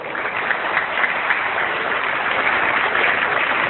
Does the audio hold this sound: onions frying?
no